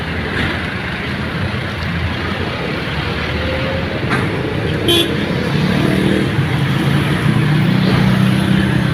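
Heavy, congested road traffic on MacArthur Highway near roadworks and drainage construction forms a loud, constant rumble close by. Brief car horn toots cut through around the middle.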